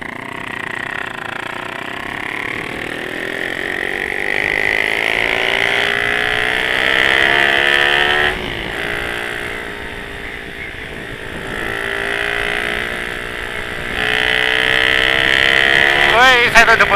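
A motorcycle engine revs and whines at high pitch, rising and falling as it accelerates, loud and close with gear shifts between surges, during a race between a Honda C70 fitted with a Suzuki Satria F150 engine and a Yamaha R15.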